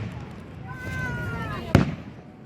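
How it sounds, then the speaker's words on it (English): Fireworks go off in a display: rising whistling streaks are followed by a single sharp loud burst near the end, with voices talking in the background throughout. "These are some dazzling fireworks, especially the ones with that change color."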